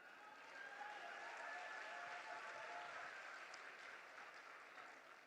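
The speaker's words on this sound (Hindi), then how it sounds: "मैडम ये अपने लिए, मेरे लिए आलिया के लिए ताली बजा रहे हैं" Audience members clap at a Sunil Pal comedy show at the Kanpur Dehat Mahotsav, producing a faint, distant, steady wash of applause that holds evenly throughout before easing slightly at the end.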